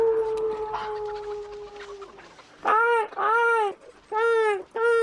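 A voice imitates a crow's harsh caw, four loud nasal calls in quick succession after a steady tonal hum fades out.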